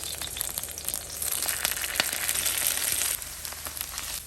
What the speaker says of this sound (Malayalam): ഒരു 5 മിനിറ്റ് കോക്കനട്ട് ഓയിൽ ഇട്ട് ഇങ്ങനെ ഫ്രൈ ചെയ്തെടുത്ത് കഴിഞ്ഞാൽ നമ്മുടെ ചേന മെഴുക്ക് പുരട്ടി റെഡി.